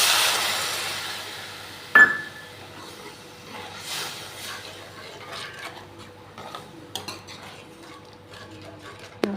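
A spoon stirs soya chunks with gram flour, salt, chilli and spices in a pan, giving a sharp metal clank near the start followed by scattered scraping and light clinks of utensil on pan, with no talking.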